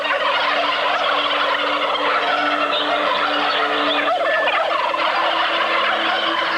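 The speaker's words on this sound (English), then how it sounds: "these 900 free-range, organically fed, 40-pound bronze turkeys are getting down one last time" Large flock of free-range, organically fed 40-pound bronze turkeys gobbling together in a dense, continuous chorus of overlapping calls, loud and steady throughout with no voices.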